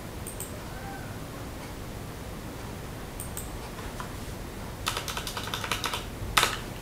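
Computer keyboard keys tapped in two short bursts near the end while a font name is entered in Windows 10, the clicks faint and close over a quiet room hum, with a few isolated taps earlier.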